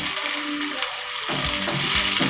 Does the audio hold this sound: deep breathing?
no